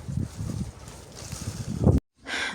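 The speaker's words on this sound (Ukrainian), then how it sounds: "дуже вітряно в нас сьогодні" Wind buffeting the microphone in low, gusty rumbles that surge and fade, cutting out briefly before a hissing rush returns.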